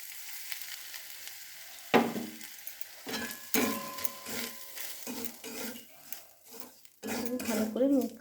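A spoon scrapes and clinks in a pan as semolina is stirred into cooked vegetables, sporadic close strokes with faint sizzling between them and brief soft talking.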